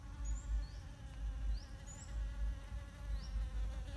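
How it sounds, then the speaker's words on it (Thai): Bees buzz around garden flowers, a soft, continuous hum with faint bird chirps over a low rumbling background. "ผึ้งมาตอมดอกไม้เต็มเลย"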